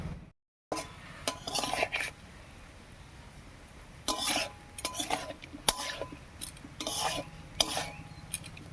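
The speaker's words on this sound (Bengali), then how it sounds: "এবারে কষিয়ে নেবে এর সঙ্গেই দেবো এক চামচ মতো লাল লঙ্কার গুঁড়া আর এক চামচ মতো ধনিয়ার গুঁড়া" Spices cooking down with a little water, red chilli powder and coriander powder in a pan with pumpkin and potato, heard as a faint sizzle under repeated scraping and stirring clinks of a spoon against the pan.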